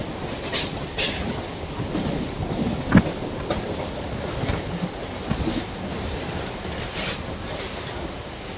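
A MEMU passenger train on the Bhimavaram to Vijayawada line rolls steadily into Gudivada junction, with a constant rumbling roar and a few sharp clanks and knocks over the dense carriage noise.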